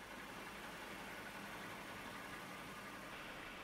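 A Lexus V6 car engine idles steadily just after starting, a faint, even hum holding at one level with no change in pace and no voices.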